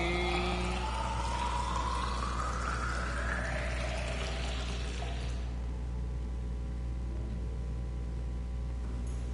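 A water filtration machine inside a Subnautica underwater base gives a rising, whooshing electronic tone that sweeps upward over several seconds, then drops to a low, steady mechanical hum.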